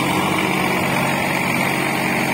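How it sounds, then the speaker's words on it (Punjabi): A Sonalika 50 RX 52 hp farm tractor runs close by with a steady, loud diesel drone that holds even throughout, with no voices over it. "ਟਰੈਕਟਰ ਚਲਾ ਕੇ ਤਾਂ ਦੇਖ ਲਈਏ ਕਿਵੇਂ ਚੱਲਦਾ ਆ"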